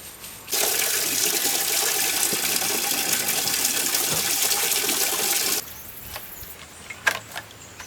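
Water pours steadily onto a freshly transplanted and mulched plant in a mountain garden, a loud continuous splash lasting about five seconds before stopping abruptly, leaving quieter outdoor ambience.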